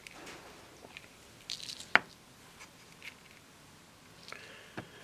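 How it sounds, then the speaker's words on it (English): Magnesium oxide is stirred into a thick gel of fumed silica and water to form a paste, giving faint, scattered wet squishes and soft clicks of the spoon, close and quiet with no talk. "just put in some water and silica gel and mix that up into a paste"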